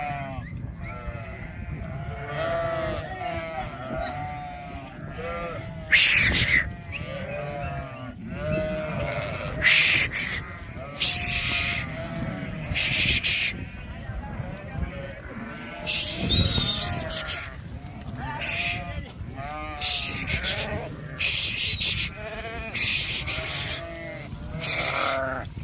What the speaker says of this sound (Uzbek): qo'ylarimiz qochib ketdi